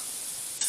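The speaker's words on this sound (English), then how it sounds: "I'm just going to carry on frying this up." Chicken and bacon frying in oil in a pan for a stir fry, a steady close hiss and sizzle that holds evenly for under a second before a brief sharper burst at the end, with no voices.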